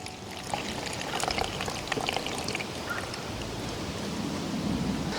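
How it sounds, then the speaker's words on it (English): Black walnut tincture pouring and trickling through a fine mesh strainer, a steady close liquid wash with faint splashes throughout. "I'm going to strain it using this handy dandy fine mesh here."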